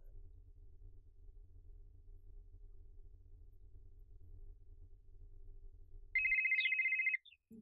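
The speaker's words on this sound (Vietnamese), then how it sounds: "Thôi mẹ gọi cho mẹ anh Trọng đi" A telephone rings on an outgoing call in a Vietnamese drama, heard as a low steady hum for about six seconds, then a single loud electronic ring tone near the end.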